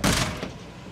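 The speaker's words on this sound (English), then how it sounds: "Let me shut this door real quick." An RV door on a new 2023 Nexus Wraith 32W motorhome thuds shut once at the start, loud and close, its echo fading into quiet afterward.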